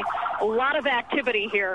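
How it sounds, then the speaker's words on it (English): Emergency vehicle sirens wail and sweep up and down at a metro train collision scene near Washington, D.C., loud and close, while a reporter talks briefly over them. "you may be able to hear the sirens going on behind me."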